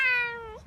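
A house cat gives one short, clear meow, close and fairly soft, falling in pitch at the end.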